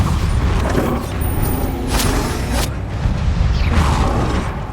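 Bombarda spell blast in the game Hogwarts Legacy, a couple of sharp booming bursts rising out of a dense, continuous rumble of combat effects, loud and close.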